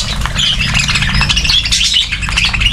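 A hungry flock of birds squawking while eating eggs and chips, a dense, continuous chatter of loud harsh calls and chirps close by.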